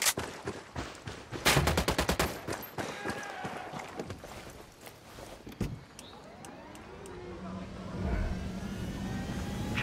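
Gunfire in Ghost Recon Wildlands, a loud rapid burst of automatic shots early on followed by scattered single shots, with a vehicle rumble rising near the end and voices talking over the action.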